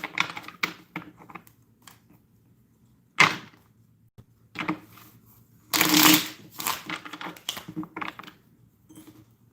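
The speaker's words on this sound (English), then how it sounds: "Shuffle my cards real quick." Tarot cards shuffled by hand in quick bursts, with crisp riffling and flicking clatters separated by quiet gaps, close and fairly loud, one longer flurry standing out near the middle.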